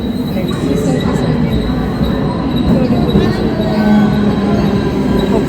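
A train slows to a stop on its rails, with a loud, steady rumble of wheels and faint metallic squeal lasting throughout, and a voice faintly audible underneath.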